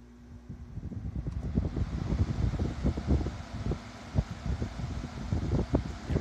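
A vintage Kisco hassock floor fan, model 7000, freshly oiled, spins up and runs with a low, fluttering whoosh of moving air and uneven rumbling buffets, close and fairly loud, with no talk.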